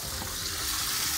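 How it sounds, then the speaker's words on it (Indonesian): Turmeric-marinated fish frying in a pan, a steady close hiss and sizzle of hot oil running unbroken throughout with no talking. "Aku nak goreng ikan kunyit ya."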